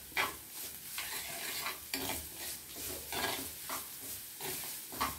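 Onions sautéing in a pan for cauliflower kurma, a steady sizzle broken by repeated stirring scrapes every second or so, close and moderately loud, with no talking.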